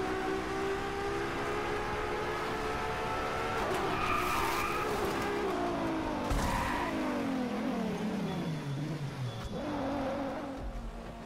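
A car in a racing video game skids and slides, its tyres screeching in a long wavering squeal over a steady engine drone, with sharper bursts and pitch swoops as it loses grip, and no voices.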